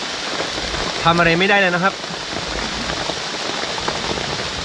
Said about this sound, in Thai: ฝนก็ยังตกอยู่เลยครับ